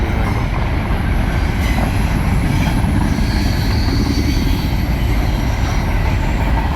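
A freight train on the New York Central line rolls around a bend, a steady dense rumble of wheels and cars holding at an even level throughout, close by, with no talk over it.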